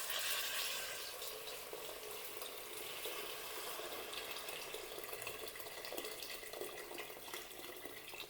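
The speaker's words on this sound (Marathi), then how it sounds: "आता याच्यामध्ये आपल्याला घालायचं आहे गरम पाणी." Hot water poured into a crab curry masala in a pan, a continuous pouring and sizzling hiss that stays steady and fairly faint until it tapers off at the end.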